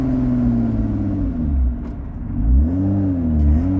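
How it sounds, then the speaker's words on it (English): A Lotus Exige 410 engine roars loudly up close, its pitch dipping and swooping through quick downshifts and blips of revving with no voices over it. "The downshifts are just pure."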